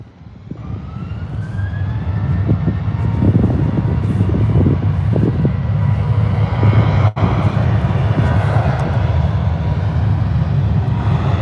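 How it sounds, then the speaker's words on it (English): A Ryanair Boeing 737 jet at Birmingham airport roars steadily and loud, building from a quieter start into a sustained engine drone with a whining tone, no voices over it. "Got this Ryanair 737 heading over to Dublin."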